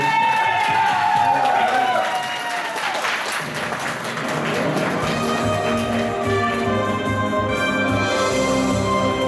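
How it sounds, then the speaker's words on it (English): An anime convention audience applauds a game-show contestant, dense steady clapping from a crowd filling the room for several seconds, with a host's voice and music running underneath. "Give her a round of applause, guys."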